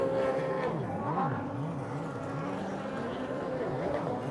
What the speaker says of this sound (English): I hope that the sound of these engines comes through in my microphone